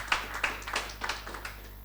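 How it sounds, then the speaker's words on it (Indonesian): A church congregation clapping their hands, a series of sharp, fairly regular claps over a steady low hum, moderately near and without talk. "Tepuk tangan untuk Tuhan."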